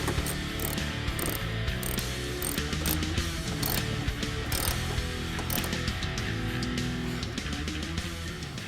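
A hand ratchet clicks steadily as it tightens the top screws on a Ford Focus ST strut during a coil spring install, with rapid close metallic pawl ticks in short bursts.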